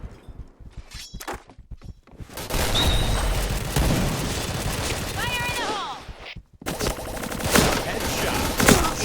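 Snow Ball Blaster toy gun firing ice balls in bursts of rapid clattering shots, loud and close, with excited voices talking and shouting between and over the firing.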